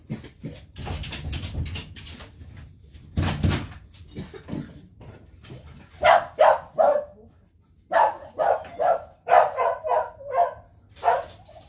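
A dog indoors barks at the door in sharp, repeated bursts, some doubled and tripled, loud and close, mixed with thumps and rustling from the door being handled.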